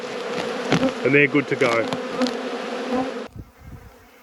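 Robber bees swarm around beehives at the end of the season, a dense, loud, continuous buzz close by with individual bees droning past, while a person speaks briefly over it.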